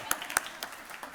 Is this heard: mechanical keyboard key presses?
no